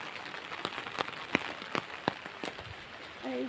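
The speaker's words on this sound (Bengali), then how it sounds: "আমি বাড়ি ফিরতে না ফিরতেই বৃষ্টি শুরু হয়ে গেছে দেখুন" Rain starts to fall outdoors, with sparse, distinct drops tapping on a nearby surface over a soft background hiss, and a faint voice-like tone near the end.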